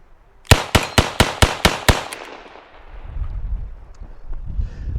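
A Smith & Wesson 586 L-Comp revolver is emptied in rapid fire, seven sharp, loud shots in an even, quick rhythm, followed by fading echo and rumbling handling noise.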